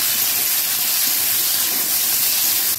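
Potato pieces dropped into hot oil tempered with nigella seeds give a loud, steady broadband sizzle that hisses continuously from start to finish with no talking.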